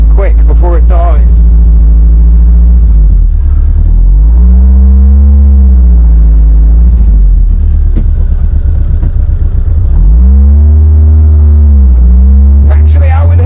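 Hillman Imp small rear-engined car running while driving, recorded close and loud: engine drone rises and falls through several revving swells and gear changes, with wind buffeting and a voice speaking at times.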